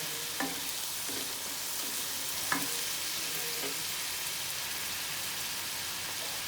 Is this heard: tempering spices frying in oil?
yes